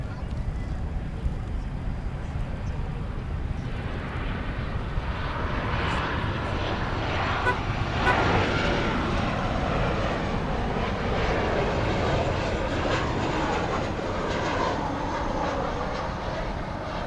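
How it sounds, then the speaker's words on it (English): An American Airlines Boeing 737-800 airliner arriving at DFW Airport, its jet engine roar a steady broadband rumble heard from a distance outdoors, holding constant and slightly swelling mid-way, with faint background voices. "Got American Flight 1559 coming in from Chicago O'Hare."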